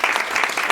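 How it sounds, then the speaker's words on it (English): Audience applause at an entrepreneurship mentorship program launch: a short, dense burst of clapping, loud and close, with no talk over it. "So a round of applause."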